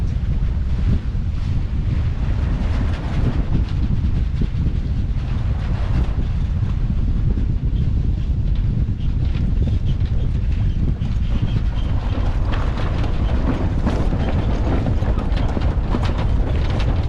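A sailboat heading into the wind on open water, with heavy wind buffeting the microphone, rushing water and waves against the hull, loud and continuous throughout.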